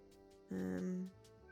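A cat in Cozy Grove gives a single short meow, clear and close, set against quiet game background sound.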